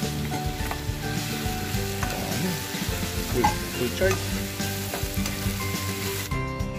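Garlic sizzles and sautés in a pan for chicken caldereta, a constant loud frying hiss with stirring scrapes and clinks, while a few words are spoken briefly nearby.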